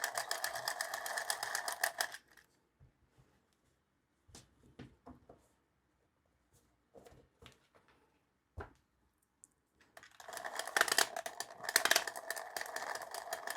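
A hand-crank tricotin knitting machine knits yarn in two loud bursts of fast mechanical clattering at the start and the end. Scattered quiet clicks and handling noises fill the gap between them.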